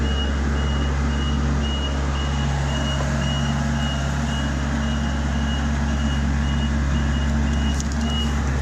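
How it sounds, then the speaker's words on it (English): A truck reversing with its warning alarm beeping at a steady, even rhythm over a constant low engine drone, sustained and fairly loud throughout. "Let me reverse back a bit"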